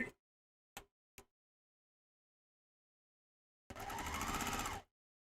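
A sewing machine stitches quilt pieces in one close, steady run of about a second, after a few soft clicks and handling taps in otherwise silent surroundings.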